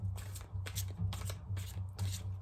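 Tarot or oracle cards being shuffled by hand in quick, repeated riffling bursts, close and soft, with a low steady hum underneath and no talking.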